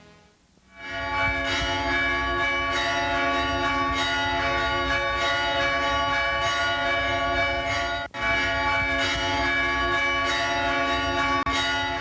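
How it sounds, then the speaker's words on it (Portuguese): Church bells of the Church of the Nativity in Bethlehem ring loudly and continuously, rich overlapping tones sustaining and clashing, with a brief dip partway through before the pealing resumes. "Sinos de Belém na Igreja da Natividade"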